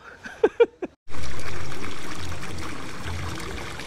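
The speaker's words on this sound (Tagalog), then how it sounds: "Running water oh." At a resort swimming pool in Candelaria, Quezon, running water flows over rocks as a steady, loud rushing that starts abruptly after a few brief vocal sounds and then slowly eases.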